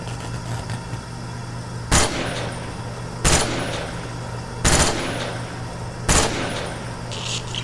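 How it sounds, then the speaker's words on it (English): Four loud, separate gunshots from the Kino Der Toten map in Call of Duty Zombies, spaced about one and a half seconds apart over a steady low game hum and ambience. "you can shoot each of them with any gun, and they will play for you guys"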